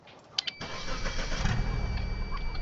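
A Geo Metro Aeropod car engine starting up in a barn, two short clicks followed by a crank that catches into a steady, loud, close idle with a deep rumble.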